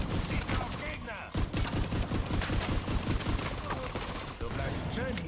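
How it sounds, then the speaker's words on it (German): Rapid gunfire from the shooter game The Division 2, dense bursts of shots crackling almost without pause, close and loud throughout with a brief dip near the middle. "Schieß auf Gegner!"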